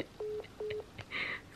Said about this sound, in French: Oh, je raccroche.